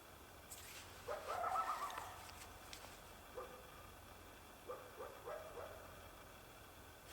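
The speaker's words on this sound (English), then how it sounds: "Maybe not a coyote, maybe some hunter's dog." A hunter's dog barks in snowy winter woods, several faint distant yelps and barks, a short cluster followed by scattered single calls.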